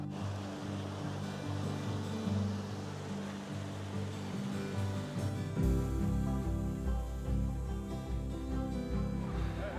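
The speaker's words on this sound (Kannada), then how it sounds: "ಇಲ್ಲೇನು ನೀರು ಹರಿದು ಬರ್ತಾ ಇದೆ." River water fed by a melting mountain glacier, flowing past a garden as a steady rushing wash. A low, heavier roar swells in partway through, continuous and fairly close.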